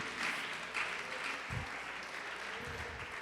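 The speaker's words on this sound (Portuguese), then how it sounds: "Pode aplaudir e glorificar o Senhor Jesus por isto." Congregation applauding during a church service, a steady broadband patter of clapping heard across the whole stretch at low level with no voices over it.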